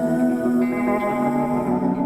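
An Epiphone Casino electric guitar rings out through echo and reverb effects, a sustained chord with layered harmonics and a washy, repeating tail, alone and moderately loud for about two seconds.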